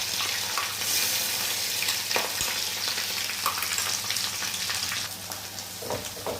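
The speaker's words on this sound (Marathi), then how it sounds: "आता आपला मसाला परतत असतानाच" Ground onion-coconut masala paste sautés in a pan for Maharashtrian katachi amti. A dense, close frying crackle goes on steadily, with occasional stirring knocks and scrapes.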